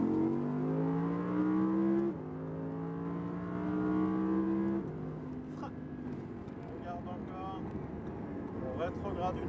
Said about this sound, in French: Et on commence à réaccélérer et on reste à gauche.